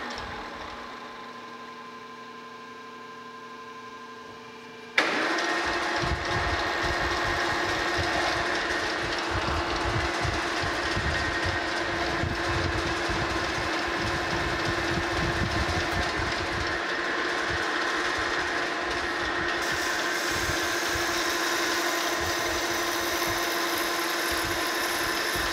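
A metal lathe single-point cuts an internal left-hand Acme thread. After a quieter motor hum, a loud, steady grinding rumble with rhythmic rattling begins and continues to the end.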